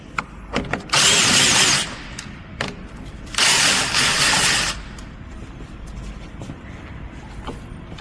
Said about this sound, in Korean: 마스터 실린더를 고정하고 있는 볼트 2개 돌려볼게요.